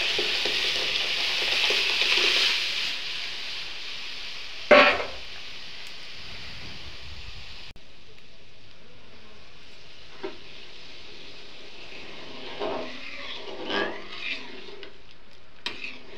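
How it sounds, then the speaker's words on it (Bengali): Tempering for chana dal hits hot oil with a sharp, loud sizzle that bursts around the middle, then settles into a softer, steady frying hiss with faint clinks. "এখন ডালটা সম্বার দিয়ে দিব।"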